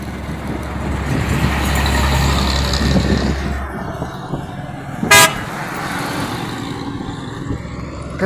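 A bus drives past with a rumbling engine for several seconds, then the engine fades and a single short, loud blast of its horn sounds nearby.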